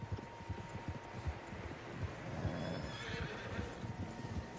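Horses neighing close by with hooves clip-clopping at a steady walk in the Red Dead Redemption 2 video game, fairly faint with light wind in an open outdoor setting.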